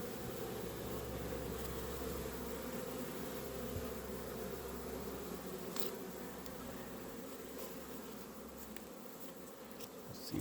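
Honey bees buzzing at an apiary, a steady, soft hum of many wings close around with a few brief louder passes, no talking.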